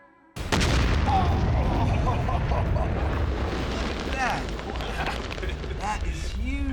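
A car blows up in a Mythbusters explosion test, a sudden massive boom that erupts after a quiet moment and then rolls on as a long, loud roar of blast and debris, with voices reacting over it.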